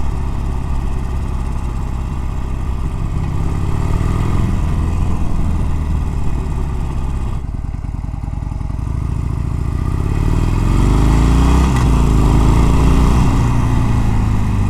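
A Harley-Davidson 48 motorcycle rides under light, roughly quarter throttle, its engine a steady loud rumble with a brief dip before pulling harder and rising again.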